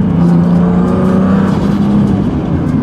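A car engine with a fluttering, uneven note while driving, heard from inside the cabin as a steady loud drone with a low pulsing throb throughout, no talking.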